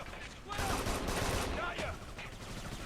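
Bursts of gunfire crackle in the shooter game Kane & Lynch 2, a dense fusillade of shots swelling midway and then easing, with a player talking over the action.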